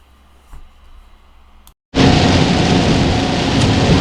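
Steady rain with thunder on a rainy morning in Michigan: a quiet, faint rumble gives way after a brief silence to a loud, unbroken wash of heavy rain and storm noise.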